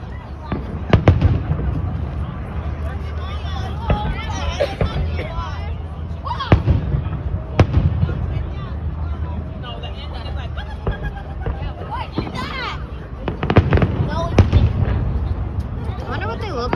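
Fireworks burst repeatedly in the night sky, a steady run of booms and crackles with louder clusters near the start, middle and end, while people talk softly in the background.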